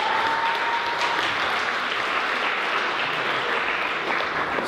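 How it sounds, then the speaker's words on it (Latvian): An audience at a charity concert claps steadily and loudly, welcoming an improvisation theatre group's performance with dense continuous applause throughout. "Sagaidām ar aplausiem!"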